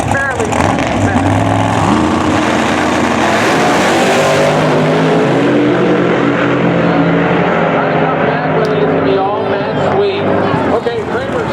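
Pro Mod drag racing cars, including a Corvette, roar loudly and continuously down the track in a dense, sustained engine blare, with a commentator talking over the noise throughout.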